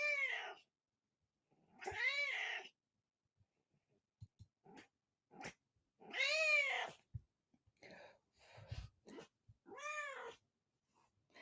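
A pet cat named Vadik meows repeatedly, loud and close, in several drawn-out calls separated by short pauses, with a few faint clicks and rustles between them.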